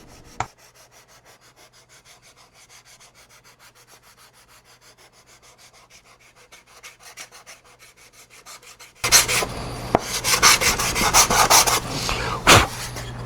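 Steady rhythmic scraping of sandpaper rubbing on balsa wood RC airplane wingtips, soft at first, then much louder and faster strokes close up near the end.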